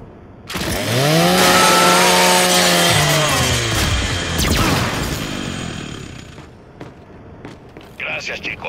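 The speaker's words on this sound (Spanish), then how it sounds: "Usa la motosierra de tu láser" Lancer chainsaw bayonet revving in Gears 5 during a training-ground session, a loud sustained roaring whine with pitch sweeping up and down, tapering off into mechanical clatter, with a voice speaking partway through.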